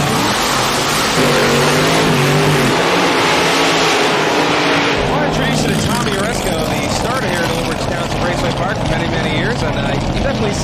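A hot rod drag racing car with a big rear wing, an outlaw altered, roars loudly with a harsh, dense engine blare that shifts midway into a rising run, while a commentator talks over it.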